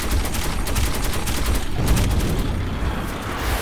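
Gunfire in the Metro 2033 Redux video game, a dense continuous barrage of rapid shots and booms filling the whole stretch, loud and sustained with no clear pauses.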